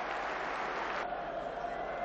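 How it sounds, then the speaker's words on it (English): A big Sheffield boxing crowd roars and applauds on its feet after a title fight, a dense wash of cheering and clapping that stays level across the short clip. "The crowd are on their feet"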